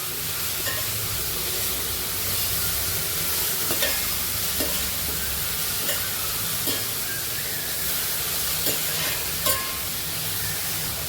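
Carrot poriyal being stirred in a pan after salt and turmeric are added, a steady frying sizzle with repeated scraping strokes of the spoon spread evenly throughout, close and moderately loud.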